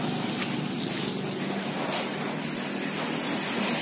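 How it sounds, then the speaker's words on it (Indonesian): Heavy rain pours down over a flooded fish pond area, a loud dense wash of noise that stays steady and close throughout with no voices. "Menyedihkan mas ya, hujannya deras banget."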